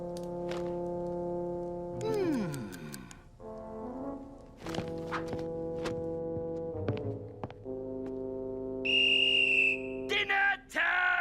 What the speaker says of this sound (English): The headmaster whistled and gave a loud shout.